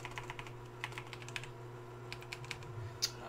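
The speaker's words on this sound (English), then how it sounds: "I was just typing in the wrong thing." Keys clack on a computer keyboard in quick irregular bursts, close and fairly quiet over a low steady background hum, with one sharper keystroke near the end.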